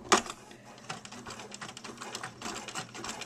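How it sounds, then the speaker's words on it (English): A Bernina sewing machine runs a blanket stitch at stitch length 4 along the edge of a wool pin cushion, giving a steady, close mechanical clatter with an opening tick and no voices. "sewing along that edge and doing a little blanket stitch right along the side there"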